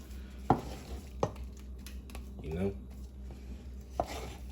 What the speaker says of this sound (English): until everything's stirred up